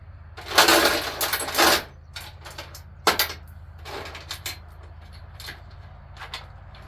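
Loose 10 mm bolts rattle and clink in a metal oil pan during a K24 engine build, several uneven bursts of metallic jangling close by over a low background hum.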